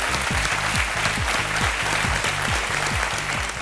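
A studio audience at a televised quiz show applauds, a dense, steady burst of clapping that holds at full strength for the whole stretch.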